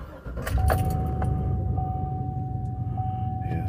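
Keys jangle in the ignition of a truck with a trailer brake fault, followed by a steady engine drone and a faint continuous chime tone, all close and fairly loud with no talking.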